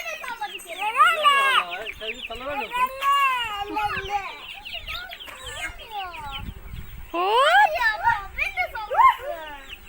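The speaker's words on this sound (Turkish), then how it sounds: "Burada tavuklarımız var." Chickens cluck repeatedly up close, with other excited bird calls overlapping throughout and voices talking in the background.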